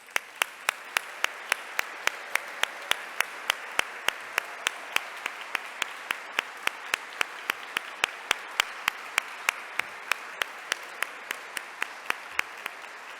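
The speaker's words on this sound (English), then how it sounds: "That is worth an extra applause to you." A conference audience applauds at the closing plenary of ICN2023, loud and steady for the whole stretch, with sharp individual claps standing out in a quick regular rhythm.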